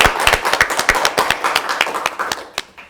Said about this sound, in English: Let's give a warm applause for our 5 items